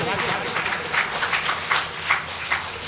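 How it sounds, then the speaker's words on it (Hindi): Audience claps for a poet at a Hindi poetry recitation event, a short burst of applause with individual claps standing out near the microphone as the noise tapers off. "एक बार तालियां बजाएं साहब"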